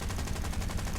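Machine guns on a Boomerang Mk I or Mk II fighter in a flight video game fire incendiary ammunition in one rapid, steady burst of evenly spaced shots, loud and close, lasting about a second.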